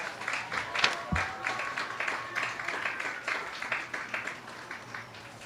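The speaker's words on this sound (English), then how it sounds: "Please join us in showing our appreciation with a big round of applause for all of our 2025 fall sports seniors." A crowd at a high school football game between the Kennett Indians and Cape Central Tigers claps and cheers for fall sports seniors, a moderate, somewhat distant patter of applause with a brief low thump early on.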